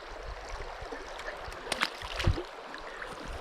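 Shallow mountain riffle on the Stryi river in the Carpathians, a steady low wash of flowing water with a few brief splashes and gurgles close by, no talk.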